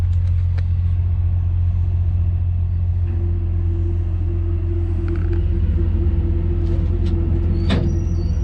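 Steady low engine rumble from a truck on the move, heard from inside the cab, with a constant drone and a faint rising whine, plus a few small clicks and rattles.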